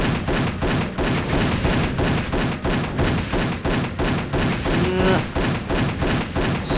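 Rockets explode again and again in Doom, a steady run of heavy, booming thuds repeating rhythmically at close range, loud throughout.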